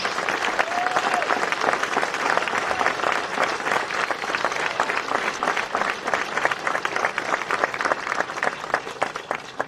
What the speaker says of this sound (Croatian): da nagradite jednim velikim pljeskom još